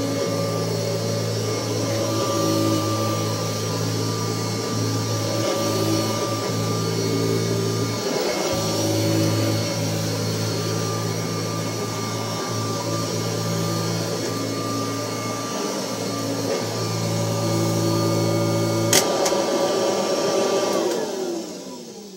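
A 1984 Kirby Heritage 2 upright vacuum cleaner running, a loud steady motor whine with strong hum, briefly dipping twice as the machine shifts, then winding down at the end.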